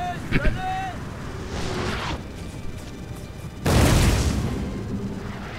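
Artillery in Napoleon: Total War fires on a battlefield, with two heavy rumbling booms, one muffled and distant, then a louder roaring blast over windy ambient battle noise.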